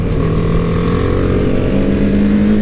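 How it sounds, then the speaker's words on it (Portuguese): A Yamaha Fazer 250 motorcycle accelerates on a road, its engine a loud, steady droning hum with a rising tone near the end, heard close up with no talking. "Vamos sair acelerando. Puxar ele e daí a gente acelera."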